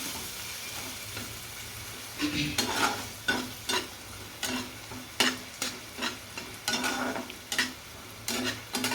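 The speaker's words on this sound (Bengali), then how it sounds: "ভাজা হচ্ছে।" Tomato chutney sizzling in a pan with repeated rhythmic scraping stirs from a spatula, close by and fairly loud, no talking.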